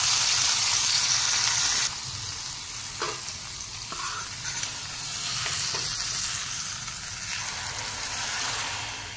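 Hot garlic tempering, with cloves fried brown, hits a fenugreek leaf and buttermilk curry with a loud sizzle that settles into a steady crackling hiss.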